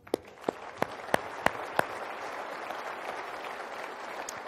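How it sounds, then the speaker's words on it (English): A dinner audience at a military appreciation event applauds service members, a few sharp distinct claps at first giving way to softer, diffuse clapping that carries on evenly in the background. "I want to give them a round of applause also."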